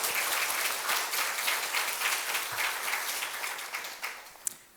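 A church congregation claps in welcome for a visiting pastor's wife during a Sunday service, a steady, fairly soft wash of applause that carries on and thins toward the end.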